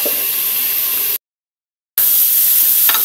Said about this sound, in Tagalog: Nagigisa na natin yung ating mga ingredients at yung gulay.